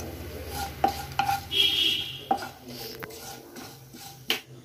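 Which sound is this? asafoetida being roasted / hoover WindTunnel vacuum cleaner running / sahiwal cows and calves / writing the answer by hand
asafoetida being roasted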